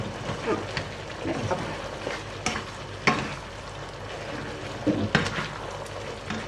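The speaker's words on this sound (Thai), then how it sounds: "ผัดหน่อไม้ หมูสับ หรือว่ากะเพราหน่อไม้หมูสับนะทุกคน" Bamboo shoots and minced pork stir-fried in a pan, a steady sizzle with intermittent scraping and stirring clatters, fairly close and moderately loud, with no talking.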